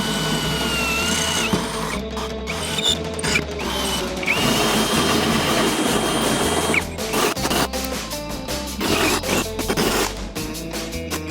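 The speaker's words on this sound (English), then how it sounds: "We're going to drill these 3 holes out." A pneumatic drill works on exhaust tubing in a custom fabrication shop, grinding through metal in repeated bursts with whirring spin-ups and ratcheting pauses, close and loud against faint background music.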